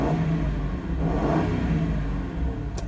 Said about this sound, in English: Engine is nice and healthy.